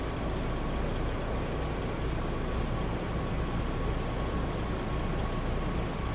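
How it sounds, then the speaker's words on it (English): Steady rain in Farming Simulator 22 on the Mountain Hill map, a dense continuous hiss that holds at an even level throughout with no voices. "Oh, how long's the rain gonna be?"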